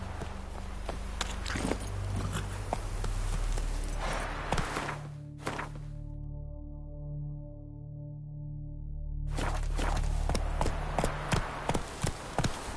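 Roach, Geralt's horse in The Witcher 3, gallops with rapid, clattering hoofbeats that break off midway for a few seconds of sustained tonal drone, then resume just as briskly.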